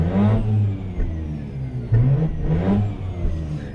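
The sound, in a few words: Mazda RX8 rotary engine revving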